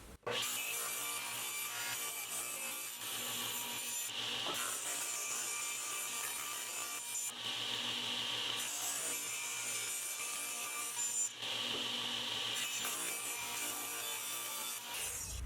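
Wooden board fed steadily through a cutter that shaves off its beveled edge, a loud continuous rasping, sawing roar lasting throughout with brief dips in intensity, no talk.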